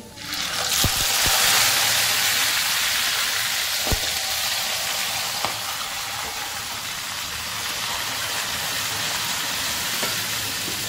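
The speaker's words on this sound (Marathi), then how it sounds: "फोडणीमध्ये कोलबी पडत आहे" Prawns hit hot oil tempering with turmeric in a Konkani-style prawn curry, bursting into a loud, dense sizzle that settles into a steady frying hiss with a few sharp clinks of utensils.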